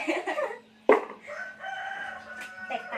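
Chickens cluck close by and a rooster lets out a long crow in a farmyard setting, the calls overlapping with faint background hum and brief voices.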